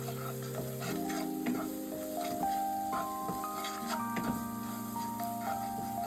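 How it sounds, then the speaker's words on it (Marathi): Homemade red masala and garam masala roasting in a pan for paneer masala, sizzling softly with a steady fry and scattered ticks of stirring, while faint background music plays underneath. "एक 2 मिनिटं मसाला भाजून घ्या."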